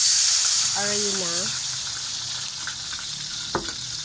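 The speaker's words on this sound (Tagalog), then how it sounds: "Halo-halo lang hanggang sa lumapot." Sauce with onions being stirred in a frying pan, a continuous bright sizzling hiss with a brief tonal squeak and a single sharp clink, close and fairly loud.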